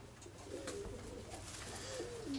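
A white-tailed pied pigeon coos softly, a few low rolling calls close by against a quiet background.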